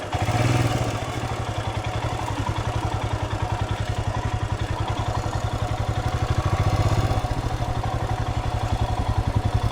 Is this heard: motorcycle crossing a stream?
yes